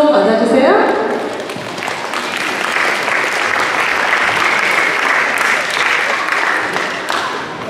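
An audience at a Korean-language school recital held at a church claps steadily for several seconds. The applause is dense and fairly loud, with a voice audible over the start of the clapping.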